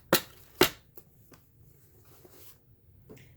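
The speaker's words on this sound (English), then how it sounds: "And now, I'm just going to use my paper cutter." A paper cutter trimming paper for a shabby lace envelope craft gives two sharp, close slicing chops in quick succession, followed by softer faint handling clicks and rustles in a quiet room.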